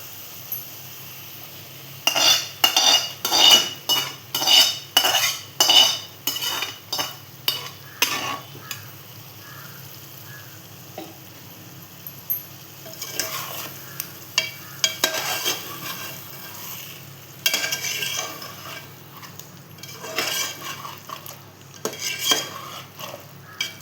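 A spoon scrapes and stirs tandoori biryani in a pan with a rapid run of close, rhythmic strokes, then slower irregular scrapes over a faint sizzle.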